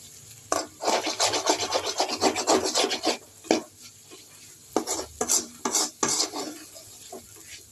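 Potato and green chili are sautéed in a pan with brisk, rasping spatula scrapes in quick bursts, loud and close, with short pauses between strokes.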